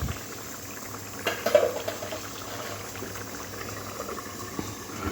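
Spinach and puti fish curry with fried lentil dumplings simmers under a lid, giving a steady low bubbling with a few louder pops near the middle, alone and fairly close.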